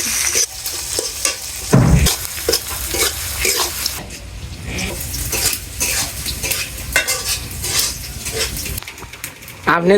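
Chopped onions sizzle in hot oil in a pan while a utensil stirs and scrapes them, with repeated clattering strokes over a continuous close fry and a voice talking at times underneath.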